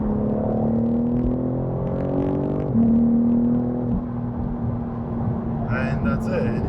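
A 2021 BMW G80 M3 Competition drives with a deep, throaty engine and exhaust drone that holds steady, with pitch steps as it shifts and pulls along, fairly loud and close.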